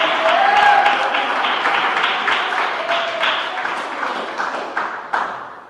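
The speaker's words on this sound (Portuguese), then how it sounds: "Pode louvar as palmas para Deus." Church congregation applauding in praise, a loud, dense wash of clapping that fades slowly toward the end, with a few louder individual claps and faint voices mixed in.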